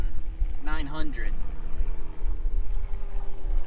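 A Toyota Tacoma truck engine idling in park around 900 rpm, a steady low rumble with a regular pulse, close and continuous, as a person speaks briefly over it near the start.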